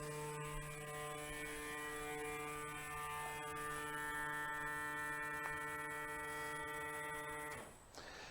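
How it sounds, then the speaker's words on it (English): A steady electric vacuum pump hum with a strong buzzing drone and layered tones, running continuously for several seconds before cutting off abruptly. "You can hear the pump comes on."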